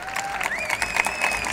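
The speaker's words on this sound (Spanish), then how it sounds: "Un aplauso, por favor." Audience applause at a Mexican film talk as a director is introduced, a brief burst of crowd clapping with a faint tonal squeal over it.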